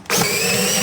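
A power drill spins up and whirs steadily, driving yellow deck screws to mount a part onto a handmade bottle-cap piggy bank, loud and close after a brief quiet start.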